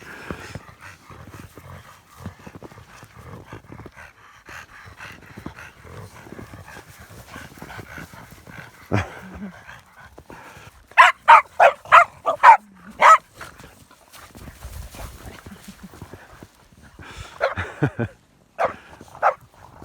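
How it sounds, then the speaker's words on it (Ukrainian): Dogs bark in quick excited bursts in the first snow in a forest, a tight cluster of loud barks midway, then a few more yips later, with quieter scuffling between. "Собаки бісяться, радіють."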